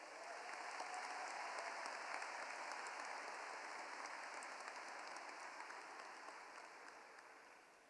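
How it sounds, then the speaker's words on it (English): Steady audience applause at a school-system gathering, a soft, even wash of many hands clapping at a distance that holds throughout and slowly fades toward the end. "let's give them a round of applause"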